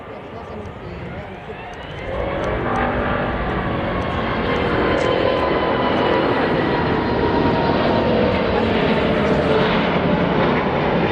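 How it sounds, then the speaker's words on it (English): An Airbus A380 jet going around after an unstable approach, a loud, sustained engine roar that swells after a couple of seconds and holds steady, close and dominant. "This Airbus A380 had an unstable approach, causing it to go around."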